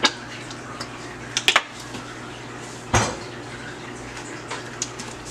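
Spoon stirring a flour-thickened mixture in a pot on a low stove, with scattered metallic clinks and scrapes against the pot and one louder knock midway, close and quiet.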